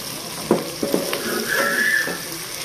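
Onions and garlic frying in a pot for a mutton and potato curry, an even sizzle broken by a few clattering stirs and a brief whistling tone, with no speech.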